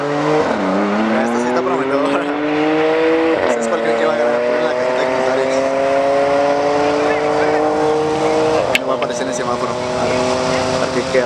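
Dragster cars race off the line at an autodrome, a Mustang and a Ram lined up side by side, engines screaming with rising revs through several gear shifts, loud and close under excited talk from spectators.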